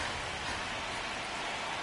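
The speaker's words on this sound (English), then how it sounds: "the field's not going to be able to hold up if the rain gets any worse than this" Rain falling on a baseball field in MLB The Show 26, a steady, even wash of raindrops at moderate level with no voices.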